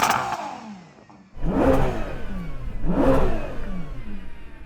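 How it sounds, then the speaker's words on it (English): A supercharged car engine revs hard twice, each rising supercharger whine surging loudly then dropping back, with a low idle rumble between the bursts. "can you hear my car revving?"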